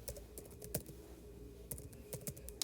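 A password is typed on a computer keyboard, a few soft scattered key clicks in small clusters, close but quiet, with no talking.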